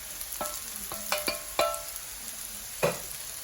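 Spoon scraping and stirring potato and eggplant frying in sesame oil with curry leaves, salt and onions in a pan, a few distinct close scrapes over a soft continuous sizzle.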